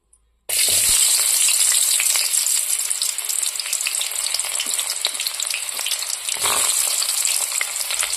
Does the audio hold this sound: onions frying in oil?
yes